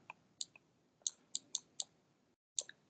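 Buttons on a handheld calculator are pressed one at a time, sharp close plastic clicks in an uneven sequence of about nine presses with a short silent gap near the end.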